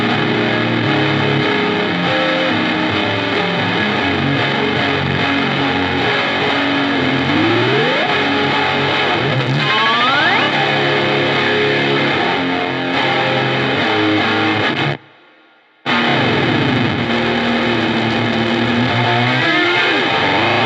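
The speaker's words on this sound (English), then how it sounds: "what you were just hearing was this gnarly fuzz pedal that has" A gnarly fuzz guitar pedal called Dust, sent in by Deep Space Devices, with an oscillation circuit, roars with thick, saturated distortion and swooping, pitch-bending squeals, cutting to a brief dropout of near-silence near the end before the noisy tone returns.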